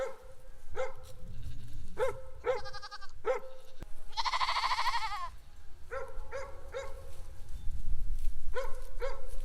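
Goats bleat repeatedly, short nasal calls one after another plus a longer wavering cry, with possible barking mixed in over outdoor background noise.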